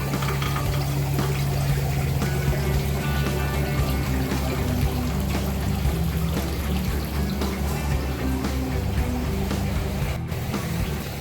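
Water is poured into a container for Oscar fish, a steady, continuous splashing gush with a low hum underneath, unbroken throughout.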